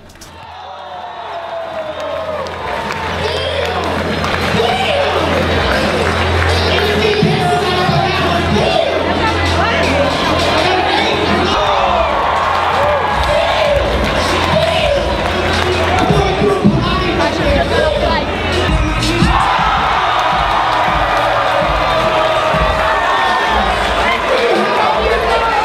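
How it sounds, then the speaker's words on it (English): Crowd at a basketball dunk contest, a loud sustained roar of cheering and babble that swells in and stays full, with bouncing and thuds mixed in. "original style dunks that had the crowd on their feet cheering with delight"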